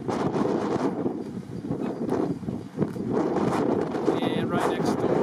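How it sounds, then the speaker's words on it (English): Strong wind buffets the microphone in a steady roaring rush with gusts, outdoors at an electric car charging station beside a gas station in Beaver, Utah. "It's very windy today."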